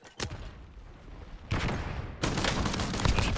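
Dragon's breath shotgun blasts from an MX Guardian in Warzone roar in quick succession, dense full-auto bursts that grow louder and nearly continuous toward the end.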